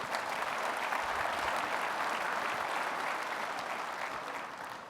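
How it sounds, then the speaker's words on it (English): A large audience at a ConnectWise IT Nation Connect 2012 keynote gives a sustained round of applause, a thick, even wash of clapping that tapers off slightly at the end. "So give yourselves a round of applause."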